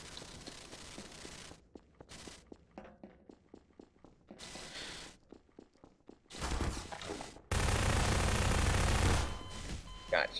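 Gunfire in the Garry's Mod video game, a run of sharp shots in bursts with rapid automatic fire near the end, loud and close, mixed with game noise.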